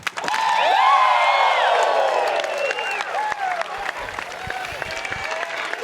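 A large crowd at a long drive championship in Winstar erupts in whoops and cheers, loud at first and then thinning into scattered claps and shouts, with several voices imitating a Ric Flair "woo."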